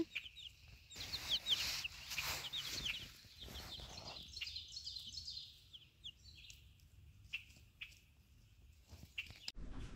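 Backyard chickens and fowl on a homestead calling near a coop, with bursts of clucks and chirpy bird calls over steady outdoor background noise and brief rustling.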